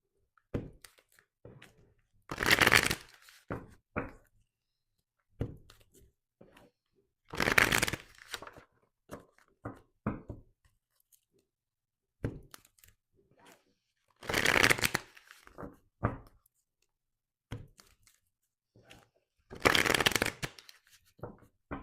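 Tarot cards being shuffled in four separate riffling bursts, each lasting about a second and spaced several seconds apart, with quiet taps and handling sounds in between.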